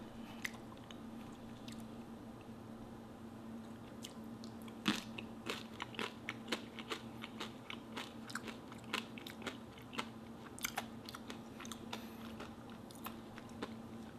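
Close, crisp crunches and bites of a spicy tuna taro chip topped with mayo, pesto, mango and pickles, sounding as sharp repeated snaps over a steady soft background, with no talking.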